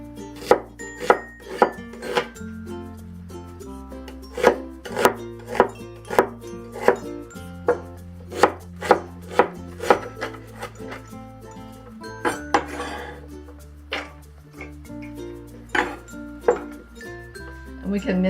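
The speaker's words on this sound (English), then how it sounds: "Next, let's cut the onion." Knife chopping rapidly on a cutting board, mincing an onion for a tofu, okra and mushroom stir fry, with steady sharp close strikes in quick rhythm over a background of low sustained music.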